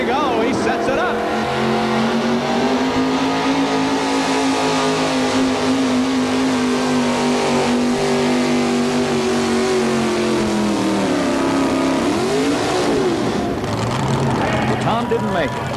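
A four-wheel-drive pulling truck at a 1987 truck and tractor pull in Louisville, Kentucky, its engine roaring loud and sustained through a full run, pitch wavering as it revs, with an announcer talking over it.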